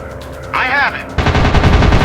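Rapid machine-gun fire in a warplane combat video game bursts loudly after a short warbling alert tone, rattling steadily under engine drone.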